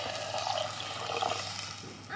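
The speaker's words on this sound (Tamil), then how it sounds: "ஒரு லிட்டர் அளவுக்கு தண்ணி சேர்த்துக்குங்க." Steady watery rush of about a litre of water pouring into a pot of sautéed herbs for soup, continuous and fairly close, with a faint hum underneath.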